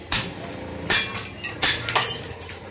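Iron cut by a press machine in an agricultural seed-drill workshop: four sharp metallic strikes in quick succession, close and loud, each ringing briefly over a low background hum.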